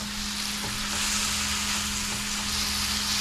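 Noodles with oyster sauce and butter sizzle steadily in a frying pan, a loud continuous hiss with a low hum underneath, and a few faint scrapes as they are stirred.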